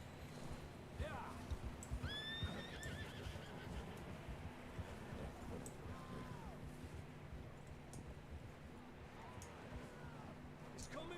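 Several horses in the video game Red Dead Redemption 2 whinny and neigh at intervals over a busy bed of clopping hooves and movement, with voices talking in the background.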